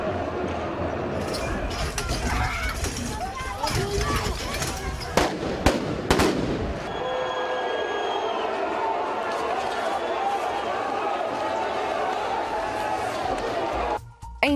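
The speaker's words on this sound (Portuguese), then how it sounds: "Ouve-se agora cada vez mais disparos pela parte da polícia." Police firing shots at a street protest: a noisy outdoor crowd with sharp, loud bangs and cracks in the first half, followed by continuous chatter and rumbling commotion.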